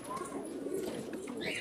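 A captured pigeon coos softly and steadily over a low background murmur, with a faint chirp near the end.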